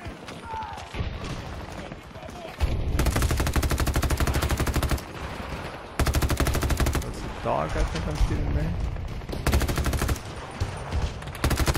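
Rapid automatic bursts from an XM8 rifle in Battlefield 2042 ring out loud and close, in sustained strings of shots with brief pauses between bursts, alongside faint in-game mechanical clatter.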